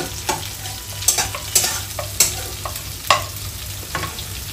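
Garlic fries in a pan with capsicum, carrot, onion and green chili for fried rice, a steady sizzle broken by repeated scraping stirs at an uneven rhythm.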